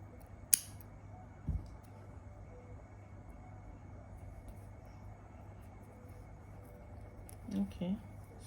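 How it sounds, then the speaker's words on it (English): Scissors snip off excess crochet yarn while a double crochet stitch top is finished: one sharp, close snip near the start, then a few softer clicks later, over a quiet, steady room hum. "And then I cut off the excess."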